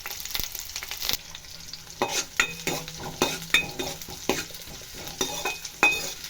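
Onions and green chilies sizzle steadily in a hot pan while a spoon stirs and scrapes in irregular strokes, close and fairly loud.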